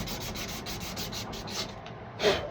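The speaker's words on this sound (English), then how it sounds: "I mean, it works well as sandpaper." Harbor Freight sandpaper rasps by hand across wood in quick, regular back-and-forth strokes, close and fairly quiet, ending with one firmer swipe.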